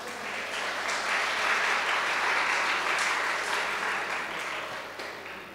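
Sustained applause from a seated crowd at a community event, swelling to a broad, even wash of clapping and then slowly tapering near the end.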